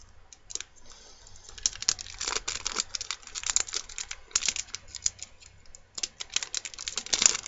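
An old Yu-Gi-Oh booster pack's plastic wrapper crinkles and crackles up close as it is worked open, in irregular bursts of sharp rustling with short pauses.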